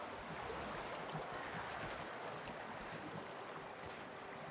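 A waterfall in The Outer Worlds video game, a steady rushing wash of falling water, continuous and moderately quiet with no talking.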